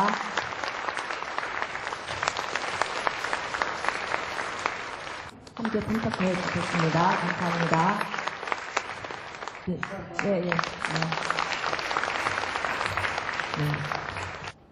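A steady wash of applause from a large audience at a women's policy conference greets a speaker and holds for about fifteen seconds, with brief dips. Talk carries over it through a microphone.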